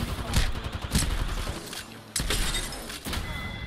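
Gunfire from a gun in the video game Apex Legends: dense bursts of rapid shots with sharp impacts, loud and close, broken by brief pauses, over busy game noise.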